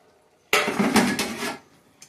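A cooking pot being stirred, giving a loud burst of clattering metal scraping against the pot that lasts about a second, then quiets, with a faint knock near the end.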